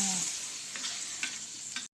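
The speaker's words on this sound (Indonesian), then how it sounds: "sekarang kita lagi goreng cabe" Chili peppers fry in a pan for Indonesian sambal, giving a loud steady sizzle with occasional stirring scrapes, close up and without talking, until a brief sudden drop at the end.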